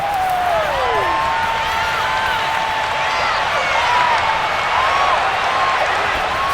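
Simulated stadium crowd from an American football video game, a steady wash of applause and cheering with faint whistles rising over it, running continuously at moderate loudness for the whole stretch.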